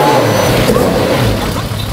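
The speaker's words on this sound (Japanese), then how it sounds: "ちょっとエンジンちょっとだけかけてください。" A 1970s Nissan Skyline GT-R (Hakosuka) with Solex 44 carburetors and Nismo parts idles roughly and loudly up close, a dense low rumble that continues for two seconds with no talking.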